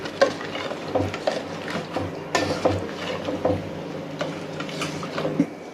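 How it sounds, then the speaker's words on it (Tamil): Spicy egg pulao stirred in a cooking pot, soft irregular scraping and clinking of a utensil against the pot with gentle bubbling, close and moderately quiet. "நல்லா ஒரு கலக்கி விடுங்க."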